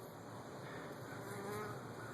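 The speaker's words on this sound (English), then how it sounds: "Bees are quite happy." A soft, continuous buzzing of bees outdoors, several insects humming at a low level without any talking.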